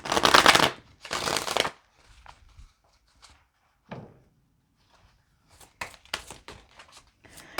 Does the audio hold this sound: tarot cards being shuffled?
yes